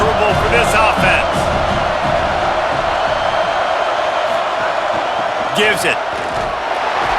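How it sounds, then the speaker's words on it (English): Simulated stadium crowd roaring steadily throughout a Georgia Bulldogs versus Tennessee Volunteers college football video game, loud and sustained beneath a commentator's voice, with a brief swell of cheering near the end. "This crowd trying to make life miserable for this offense."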